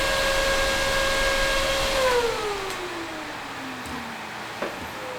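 A cooling fan on a six-card VEGA 56 GPU mining rig blows hard with a steady whoosh and a tonal hum, then spins down, its pitch sliding lower as the airflow fades, with a small knock near the end.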